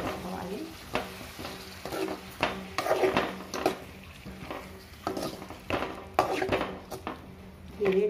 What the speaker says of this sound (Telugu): టమాటా వేసుకోవాలి.